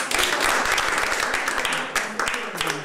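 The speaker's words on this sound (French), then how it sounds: "On peut les applaudir encore une nouvelle fois." A concert audience applauds with dense, sustained clapping from many hands that stays full and lively, then thins slightly toward the end.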